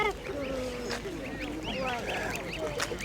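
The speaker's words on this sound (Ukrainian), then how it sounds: "Это уточки или гусочки?" Ducks or geese quacking among a crowd at a bird fair and exhibition in Severodonetsk, several calls overlapping steadily at close range while people talk in the background.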